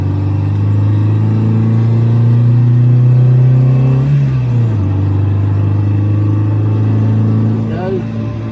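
An MG B sports car rolls out of the pit lane at the Castle Combe race track. Its engine holds a loud, steady drone from inside the car, dips briefly midway and then resumes, with a voice talking over it.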